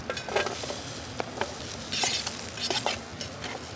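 Chorizo and onions fry together in a pan at a cold forest campsite, a close steady sizzle with frequent scraping and clinking from stirring.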